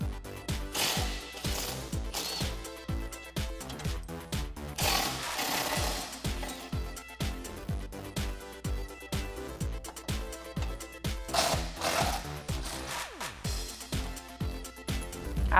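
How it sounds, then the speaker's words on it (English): An impact wrench rattles in rapid, repeated bursts, taking out the bolts on the front bumper of a Jeep Wrangler TJ. The hammering is close and fairly loud, and it runs steadily with short pauses. "After that last bolt is removed, we can remove the whole front bumper."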